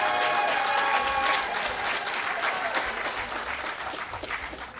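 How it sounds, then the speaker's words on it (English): An audience claps for a speaker at the opening of a health and wellness centre, sustained dense applause that starts loud and slowly thins and fades over about five seconds, with no talk over it. "I think he deserves another round of applause."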